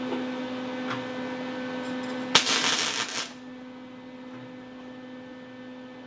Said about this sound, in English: The ground is on the metal, so I'm just going to touch it and create a spot weld.